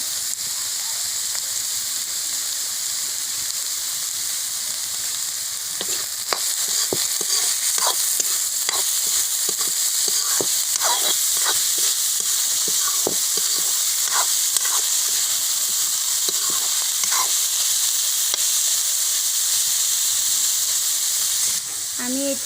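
Fish curry with turmeric and chilli powder sizzles and fries steadily in a pan, a continuous hiss with scattered crackles and pops, plus occasional stirring clatter, close and fairly loud throughout.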